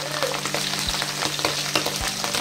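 Food crackles and spits in hot oil for a tempe and salted squid dish, a close, busy sizzle with a few soft thuds from stirring and no talk.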